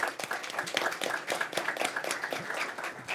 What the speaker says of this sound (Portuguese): a gente tem que te agradecer com palmas